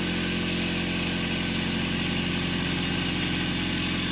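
An Adams motor test rig runs at about 2700 RPM and climbs, giving a loud steady mechanical drone with a constant electrical hum and dense high whine throughout.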